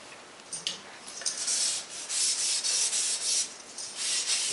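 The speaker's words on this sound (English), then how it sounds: "here we're just wiping them down with a 3M pad before we put the final coat of white on" Arrow shafts being wiped down with a 3M abrasive pad before a final white coat, a close dry rubbing and scuffing in uneven strokes that swell and fade over a few seconds, with no voices.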